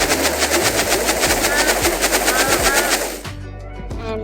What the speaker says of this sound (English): The fire ability, when you put on, you can get a flamethrower